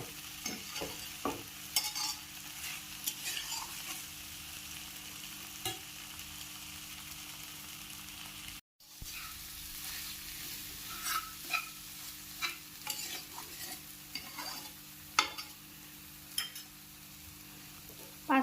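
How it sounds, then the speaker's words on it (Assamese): Eggplant with spices and dried fish being stirred in a pan, with quiet, steady frying sizzle and irregular soft scrapes and clinks of the spatula, with no talk. "বেঙেনাৰ লগত মছলাখিনি এতিয়া পূৰা মিক্স হৈ যায়, এনেকৈ মিক্স কৰি ল'ব।"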